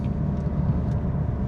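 A diesel BMW engine rumbles steadily and close by, a low continuous drone heard from inside the car.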